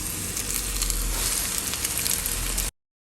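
Stuffed chayote, dipped in egg, frying in plenty of oil in a pan, giving a dense, steady close sizzle that stops abruptly.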